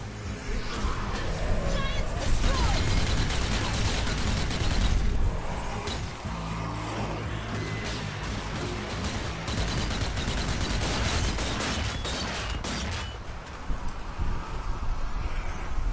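Turret gunfire in a World War II shooter against Nazi soldiers, rapid loud bursts of automatic fire mixed with battle noise throughout, with voices talking over it.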